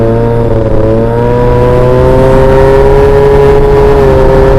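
Yamaha Jog scooter fitted with 6 gram rollers, its engine held at a steady loud drone with a strong buzzing whine that rises slightly through the run, close up and continuous with no talk.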